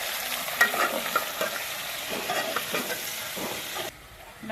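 Chicken with garlic-ginger paste and green chilies fries in a pan nearby, a steady sizzle broken by scraping stir strokes, dropping to a quieter hiss at the very end.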